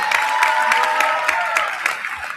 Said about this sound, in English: Clap it up for Claire.